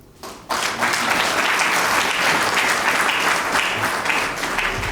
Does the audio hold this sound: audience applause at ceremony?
yes